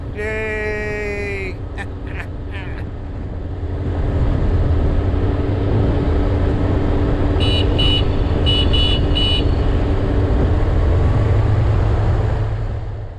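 A Kawasaki Mule Pro FXR side-by-side drives off-road through a desert wash, its engine a loud, steady, close drone that swells after a short opening of voices and chirps, with a few brief beeps partway through.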